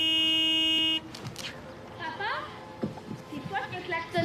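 A steering-wheel horn on a tractor blares one long, steady honk lasting about a second, followed by voices talking over light background noise.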